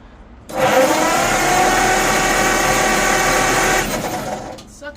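A 1951 Ford F1 engine, left sitting for 20 years and squirting fuel, cranks in one loud, steady mechanical whir lasting about three and a half seconds, then winds down.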